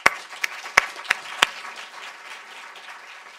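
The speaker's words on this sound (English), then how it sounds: "just ask for applause for this great panel" A few sharp, separate claps from an audience applauding a panel at a girls' education event, five distinct hits in the first second and a half, then trailing off into quiet room noise.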